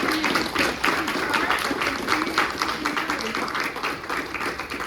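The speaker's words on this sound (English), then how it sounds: "Please stand up and give yourselves a round of applause." Conference audience applauding together, a broad continuous clatter of many hands at moderate distance, with voices and cheering mixed into the clapping.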